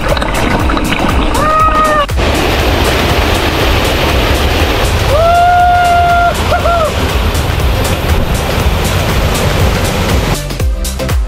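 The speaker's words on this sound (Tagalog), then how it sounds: "ewan ko kung naririnig nyo na yung daloy ng tubig" Waterfall roar at a remote secret falls: a loud, continuous broadband rush of falling water fills the scene, with a couple of brief tonal whines cutting through midway.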